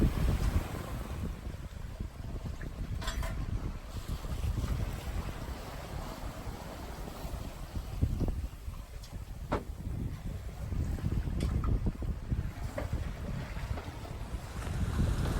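The sailboat SeaSprite sails on a close reach in wind, with steady wind buffeting and water rushing along the hull, plus occasional creaks and knocks from the boat.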